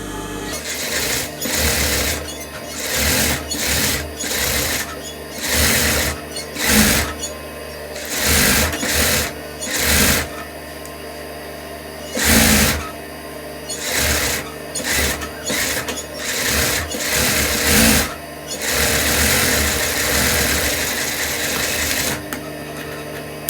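Sewing machine stitching fabric piping, loud bursts of rapid mechanical stitching that start and stop repeatedly, with short pauses between runs and a longer continuous stretch near the end.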